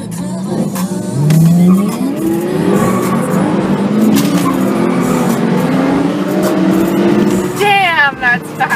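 A Porsche GT3 and a Shelby Cobra launch hard in a race, engines revving and rising through the gears with tire squeal, loud and close, while spectators talk over the noise.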